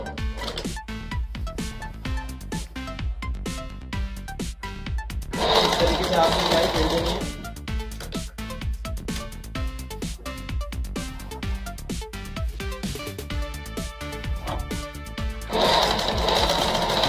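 A sewing machine runs steadily, stitching over the folded hem of a petticoat, its fast rhythmic clatter continuing throughout with brief louder whirring stretches, while someone talks over it.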